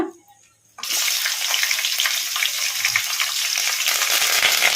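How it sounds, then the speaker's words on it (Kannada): Green chillies, curry leaves and bay leaf fry in a pan on a medium flame for an egg masala gravy, with a loud, steady, close sizzle that starts abruptly after a brief quiet moment and continues throughout. "ಇವನ್ನೆಲ್ಲ ಮೀಡಿಯಂ ಫ್ಲೇಮಲ್ಲಿ ಫ್ರೈ ಮಾಡ್ಕೋಬೇಕು"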